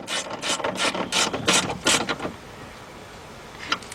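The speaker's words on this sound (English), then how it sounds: "let's tighten up the one right here and the 10mm nut up there" A ratchet clicks in several quick bursts while tightening a 10mm nut on a Mercedes E320 rear window regulator, close and crisp, then falls quiet with one last faint click.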